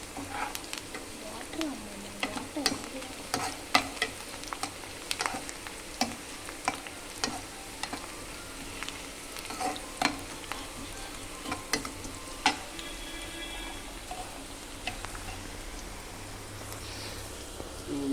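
Sliced onions fry in hot oil in a pan for chicken fry, giving a continuous soft sizzle punctuated by frequent sharp ticks and scrapes of stirring, fairly quiet and close, with no talking.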